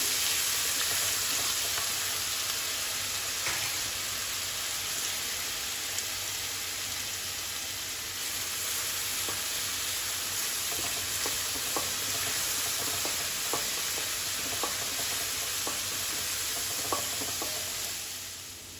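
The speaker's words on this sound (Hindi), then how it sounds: "जिंजर गार्लिक पेस्ट ऐड कर देंगे 1 चम्मच, इसको भी भून लेंगे।" Ginger garlic paste frying in a pan for paneer tikka masala, a continuous even sizzle like light rain lasting throughout, broken by occasional soft clicks of a spoon stirring.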